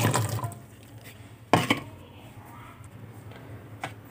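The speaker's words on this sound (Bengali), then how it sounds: "আমি বিচি এক বাটিতে ঢেলে দিয়েছি" Jackfruit seeds tipped into a bowl of salted water, giving a few short splashing pours with quieter trickling between them, close by.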